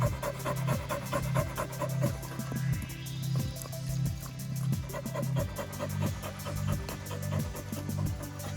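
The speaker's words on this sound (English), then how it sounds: "Good girl. Loves drinking water." A dog, a female, pants rhythmically and steadily up close, with a quick regular breathing pulse throughout; lapping at water isn't distinctly separable from the panting.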